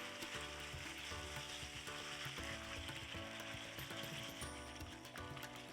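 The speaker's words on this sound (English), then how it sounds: "Then we will add in the seasoned calamari." Seasoned calamari goes into a pot of seafood curry and gets stirred, giving a steady close sizzle with a scraping, rattling undertone and no talking.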